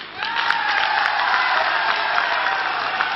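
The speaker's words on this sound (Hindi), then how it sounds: "आप ताली बजा रहे हो" Dense, sustained applause from a large audience at a political rally booth committee gathering in Guwahati, Assam, rising sharply at the start and holding steady and loud throughout.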